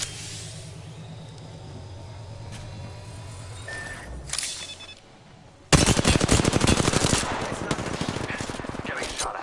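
Gunfire in a PS4 shooter video game: quieter distant shots and game effects at first, then a loud sustained burst of rapid automatic fire close up, with voice lines mixed in.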